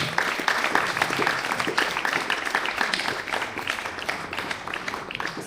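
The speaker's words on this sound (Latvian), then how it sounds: "Skaļiem aplausiem, viņi taču ir pelnījuši" Loud, steady applause fills an open-air stage at a Latvian seaside contest final, many hands clapping densely and continuously throughout without a pause.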